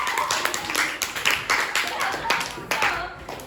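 A classroom round of applause during a social studies lesson, scattered hand claps from students that rise in a short irregular burst, close and fairly loud, with voices mixed in.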